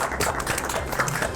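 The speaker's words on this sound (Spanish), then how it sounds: "Patricio Espinosa, para quien pido un aplauso, por favor" An audience applauds at a Spanish-language academic panel on primary elections and governability, a dense, steady patter of many hands clapping with no talking.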